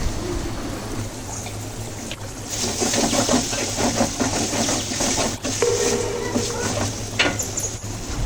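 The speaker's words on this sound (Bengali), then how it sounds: "মশলাগুলো এক দুই মিনিট সময় নিয়ে কষে নেব" Spices fry in oil in a pan for a fish and coriander mash, a soft steady hiss that swells into a brighter, busier sizzle partway through, close and moderate in level.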